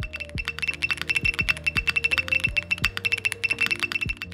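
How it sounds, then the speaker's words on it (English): Quick typing on a G-Square Studio Vintage 60s keyboard in buzzer mode, a high electronic buzz or beep with each keypress, a steady run of clicky strokes close up, no talking. "It also has a buzzer mode"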